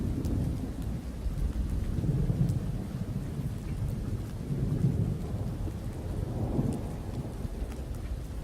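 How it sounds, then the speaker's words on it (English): Rain patters steadily in the video game Oknytt while low thunder rolls in slow swells beneath it, soft and distant, with no voices. "that makes thunder"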